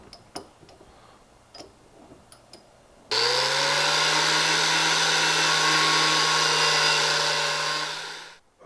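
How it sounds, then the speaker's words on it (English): Faint ticks come first, then a bench grinding wheel spins up and whines loud and steady as it grinds metal off a winch part before it winds down. "after using the grinding wheel to grind a lot of this off"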